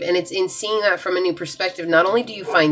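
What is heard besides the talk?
No everyday noise stands out behind the speech.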